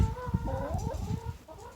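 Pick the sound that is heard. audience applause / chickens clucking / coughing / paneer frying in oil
chickens clucking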